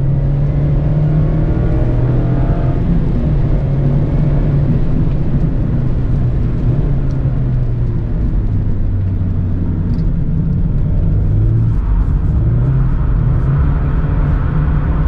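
A 2020 Mazda MX-5 Miata Club drifting on slippery wet pavement in the rain, engine droning steadily from inside the cabin with rising and falling revs and a constant low road rumble.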